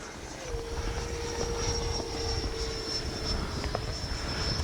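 A Freewing Mirage RC jet flying on SMC packs, its electric ducted-fan whine held as a steady high tone with a lower hum beneath, continuous and moderately distant, with no talking.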